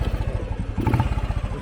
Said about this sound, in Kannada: ಗಾಡಿ ಈಸಿಯಾಗಿ ಒಂದೇ ಕಿಕ್ಕಿಗೆ ಸ್ಟಾರ್ಟ್ ಆಗುತ್ತೆ